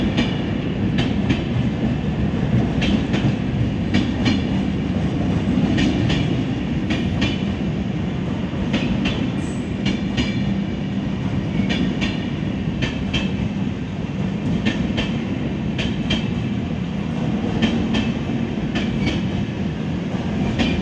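A train bound for Katra rolls past on the adjacent track, a loud, continuous rumble with a rhythmic clickety-clack of wheels over rail joints, sustained and close throughout.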